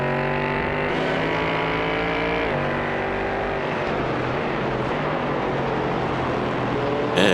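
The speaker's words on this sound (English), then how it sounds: "These cars really do sound great." Sports prototype race cars run at Watkins Glen during a Sports Car Challenge race, making a sustained, loud engine roar with shifting pitch as cars pass close by, ending with a sharper burst.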